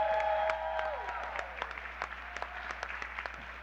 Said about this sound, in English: And another round of applause for Danielle Davis.